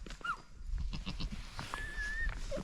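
A young goat bleats in short, high wavering calls, several in succession, while being fed milk in a Tibetan nomad setting, with faint background noise and no speech.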